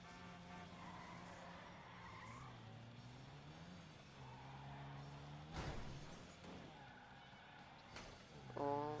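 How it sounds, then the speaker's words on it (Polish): Car in GTA Online skidding and scraping with tire squeal and engine whine, a few sharp crash impacts mid-way and a louder hit near the end, fairly faint overall. "Właśnie tak, obijamy nasz samochodzik."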